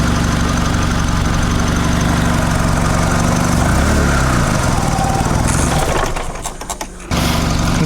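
Engine of a Mitsubishi Lancer CE running steadily and loudly up close, a dense continuous drone with rough vibration, which dips briefly near the end before picking back up; no speech.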